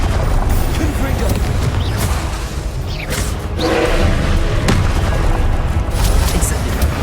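Spell-blast explosions from the Hogwarts Legacy video game, loud booms and crashing bursts with whooshes spread across the stretch, mixed with game effects and a voice calling out spells.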